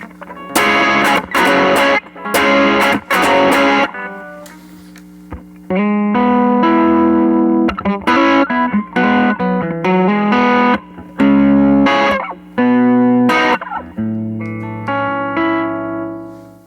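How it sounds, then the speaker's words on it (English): Electric guitar through an effects unit, set slightly clean, alternates between hard, loud strummed chords and softer picked single notes and chords, the volume swelling and dropping by playing touch alone, no talking. "I'm just going to play and just do some different stuff, and you'll hear the kind of the dynamics that I can create"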